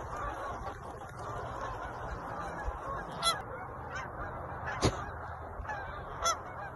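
Canada geese honk in short bursts as they land among decoys in a field, several calls standing out over steady background noise and rustling.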